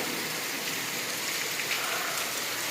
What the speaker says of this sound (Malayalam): കേട്ടോ മഴ പെയ്യുന്നത്